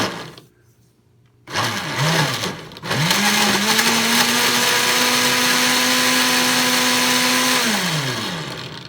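Countertop blender grinding orange peel and water, a loud steady motor whine that starts after brief spin-ups and runs for several seconds before winding down, with no talk over it.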